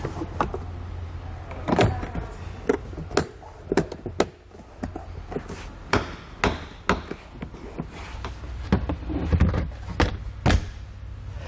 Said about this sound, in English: We're going to go ahead and reinstall the panels we just removed.